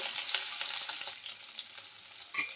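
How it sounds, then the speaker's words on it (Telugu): Chopped onions and green chillies with cumin and mustard seeds frying in a pan, a bright close sizzle that softens after the first second, punctuated by light stirring scrapes, with no voices. "ఆనియన్స్ అయితే కొంచెం కలర్ అయితే చేంజ్ అయ్యే వరకు అయితే ఫ్రై చేసుకోవాలి"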